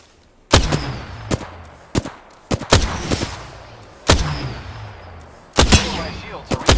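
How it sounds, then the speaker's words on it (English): Bursts of gunfire in Apex Legends, several sharp loud shots in an irregular rhythm, each trailing off with reverberant decay, close and dominant. "Enemies are shooting at me."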